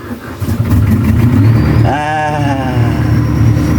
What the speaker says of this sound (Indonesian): mesin nyala ya